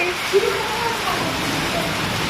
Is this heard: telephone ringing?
no